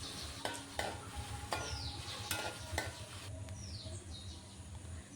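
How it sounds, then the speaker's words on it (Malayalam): Tomatoes sauté in hot oil as a spoon scrapes and clacks against the pan several times, with faint birdsong in the background. "നല്ലവണ്ണം ഒന്ന് വഴറ്റിയെടുക്കാവേ എണ്ണയ്ക്കകത്ത് കിടന്ന് നല്ലവണ്ണം വടുതിട്ട തക്കാളി"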